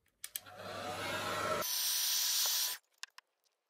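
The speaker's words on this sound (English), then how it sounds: "Use a hairdryer or heat gun to go around the camera." A hairdryer or heat gun blows on an iPhone 12 Pro skin to soften the adhesive, giving a steady close hiss of air for about two and a half seconds that shifts tone midway, then cuts off with a few faint clicks.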